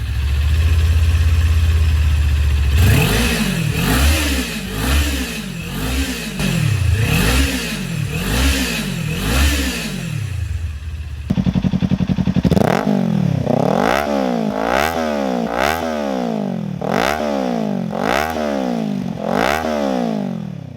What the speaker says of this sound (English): I'll throw in some stock exhaust versus the LeoVince exhaust now.